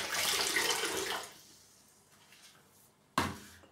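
Water runs from a tap for about a second, then quiets, followed by a brief splash near the end.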